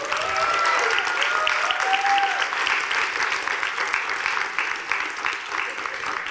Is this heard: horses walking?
no